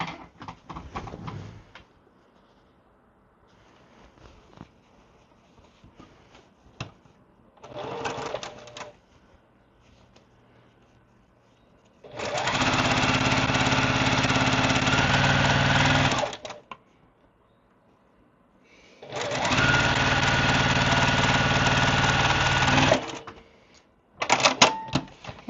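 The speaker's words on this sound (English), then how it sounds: "I'm going to sew this last row on" A sewing machine stitches the last row onto a quilt block, running in two long loud bursts of several seconds each, separated by quiet handling noises and preceded by a few short stitching spurts.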